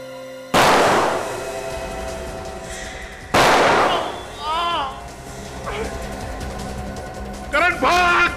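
Two sharp, loud gunshots ring out a few seconds apart, each fading with an echo, with people shouting between and after them.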